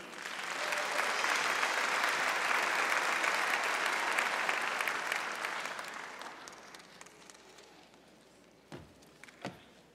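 Sustained audience applause for graduates at an AHS/GED graduation ceremony in November 2012, a dense wash of clapping that swells, holds, then fades out, leaving a couple of isolated claps near the end.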